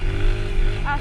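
A motorbike engine revs hard on a single-track mountain trail, a close, loud, continuous drone that holds steady for a moment before a brief higher pitched whine near the end.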